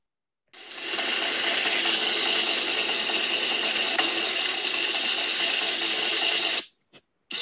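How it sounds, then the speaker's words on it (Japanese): A roulette wheel spins with a loud, steady, whirring ratchet clatter for about six seconds, then stops abruptly, followed by a brief click. "さあルーレットスタート"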